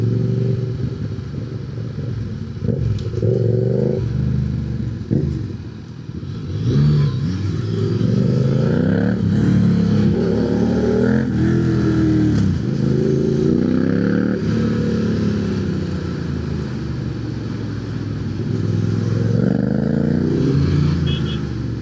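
Suzuki GSX-S 1000GT motorcycle riding at speed, engine note rising and falling through throttle changes and revs, steady and close with wind rush, loud throughout with no voices.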